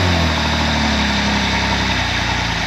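A Jeep 4.0 engine fitted with a high-volume oil pump idles steadily and loudly, its low rumble and vibration continuous and close throughout, with no voices.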